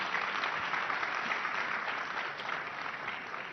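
Sustained, dense applause from a large audience welcoming Delhi Chief Minister Rekha Gupta onto the stage at the Rising Bharat Summit 2026, steady and even throughout with no voices over it.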